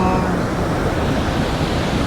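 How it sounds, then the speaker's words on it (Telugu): A small roadside waterfall on a motorcycle road trip from Hyderabad to Srisailam gives a steady, close, broadband rush of falling water, continuous and even with no talking. "ఈడ చిన్న వాటర్ ఫాల్ అట్లా వస్తుంది, ఇట్లా కూడా వస్తుంది"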